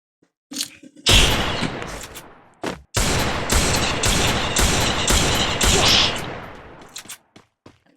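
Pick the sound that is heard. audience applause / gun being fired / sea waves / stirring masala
gun being fired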